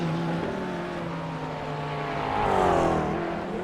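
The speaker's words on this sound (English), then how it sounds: "It may not be the best GT3 out there, but by golly, it does have the best exhaust." A McLaren GT3 race car at Mount Panorama, with a loud, steady exhaust drone that holds a tone, then rises in pitch and volume as the engine climbs through the revs, heard without anyone speaking.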